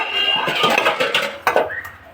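Dishes, pots and utensils clatter and clink while being scrubbed and washed in a home kitchen, a string of close, sharp metallic knocks over running water.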